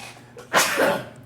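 A single loud, sharp sneeze bursts out near the microphone, with a brief noisy tail trailing off afterward, alone and without talk.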